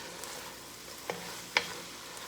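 Vegetables for a navy bean stew cooking in a pot, a low steady sizzle with two brief clinks of a utensil against the pot, close and quiet with no talking.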